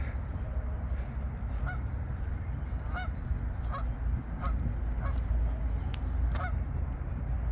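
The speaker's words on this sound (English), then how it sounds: "I hear a goose, but I don't see the goose." Several goose honks ring out at a steady pace over a constant rumble of outdoor background noise, moderately distant, by the Arkansas River.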